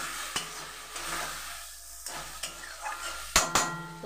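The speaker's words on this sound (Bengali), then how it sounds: "তো মশলাটাকে আমি ভালো করে কষতে দিই" Spiced masala with turmeric and red chilli powder frying in a pan for a jackfruit and prawn curry, a steady close sizzle with a spoon stirring and scraping, a few sharp clinks of metal on the pan near the end.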